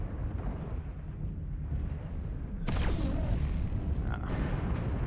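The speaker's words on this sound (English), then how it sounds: "what's up with the explosions in the water?" In the video game MechWarrior Online, a sudden broadband explosion bursts in water over a steady rumbling background, followed by churning, splashing noise and a smaller second blast.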